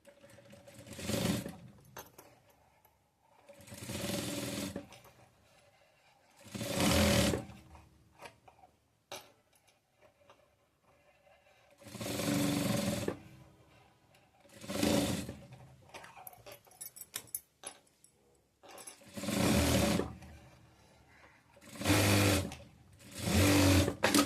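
A sewing machine stitching a seam joining sleeves on a ready-made frock, running in about eight whirring bursts of a second or two each, close and clear, separated by quiet pauses with faint handling sounds.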